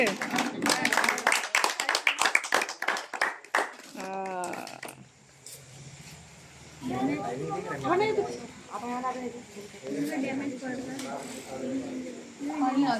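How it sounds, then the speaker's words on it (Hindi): Clapping at a birthday celebration: a fast burst of hand claps in the first few seconds, then cheerful voices talking and singing over a lively room. "चले ताली बजाइए भाई इतने जोर से।"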